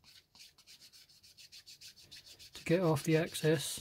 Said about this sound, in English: use the sanding stick lightly